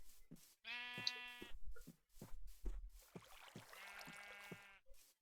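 Two long, wavering sheep bleats close by in Minecraft, separated by a pause, with soft knocking and rustling in between.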